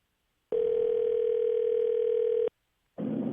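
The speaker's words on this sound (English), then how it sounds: "We will be calling Dory." A steady, loud telephone tone sounds for about two seconds while a call is being placed, then cuts off. A brief gap of silence follows before another tone begins.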